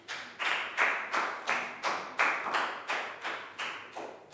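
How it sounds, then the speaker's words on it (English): A Year 3 English class claps for a student in unison, about ten crisp, evenly spaced claps in a steady beat, close and moderately quiet, with no talking. "Big round of applause for Chu."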